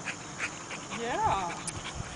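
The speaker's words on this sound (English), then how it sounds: "Can almost detect his panting and know where he is." A dog pants close by in short rhythmic breaths, with a brief whimpering whine rising in the middle, over soft background noise.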